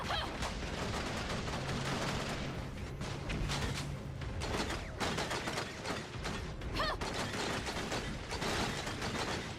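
Gunfire in the video game Tower of Fantasy keeps up dense, continuous bursts of shots and clattering mechanical hits across the whole stretch at a fairly low overall level.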